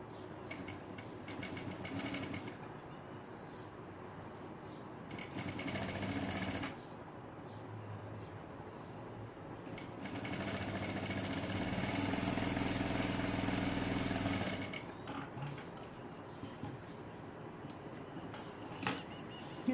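Sewing machine stitching strips of fabric together in several bursts, a rapid mechanical whir starting and stopping, with quieter fabric handling between runs and the longest stretch of stitching near the end.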